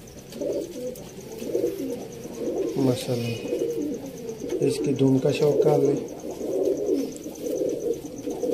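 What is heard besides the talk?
pigeons cooing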